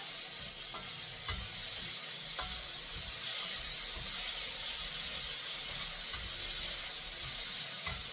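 Tomatoes and green chilies frying in a pan for a puffed rice tiffin dish, a constant close sizzle and hiss with occasional stirring clinks, no voices over it.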